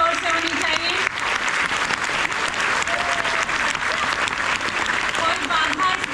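Sustained audience applause at a Hindi poetry gathering, a dense, steady wash of clapping from a large crowd holding at an even level throughout with no voices standing out.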